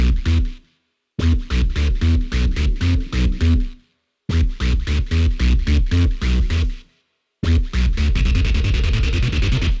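A Serum synth patch sent to three reverb settings in Chroma reverb with automated levels, playing choppy rhythmic chord phrases separated by short silences, ending in a rapid stuttering buzz, loud and alone.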